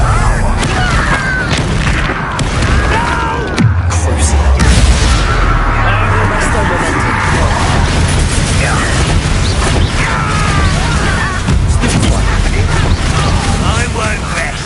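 A Bombarda explosion spell in Hogwarts Legacy bursts with a deep boom amid a dense, loud wash of combat noise, with popping blasts and rumble running throughout.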